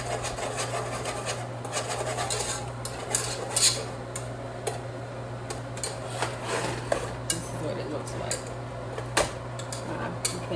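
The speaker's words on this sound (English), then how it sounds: "So you just whisk the flour and the butter together" A whisk works flour and butter together in a pan for a roux, making continuous close scraping and clinking against the metal over a steady background hum.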